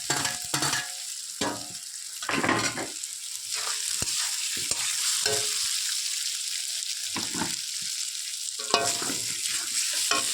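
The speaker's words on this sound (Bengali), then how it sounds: "আলুটা সোয়াবিনটা দিয়ে আমি ভালো করে একটু কষিয়ে নেবো।" Potato and soybean are stirred and sautéed in a pan, with a continuous oily sizzle broken by repeated scraping strokes of a spoon, close and fairly loud.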